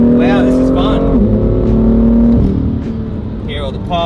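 A BMW M2 in sport mode revs hard and loud, its engine note climbing and holding with crackling exhaust pops, then settling, while people talk excitedly over it.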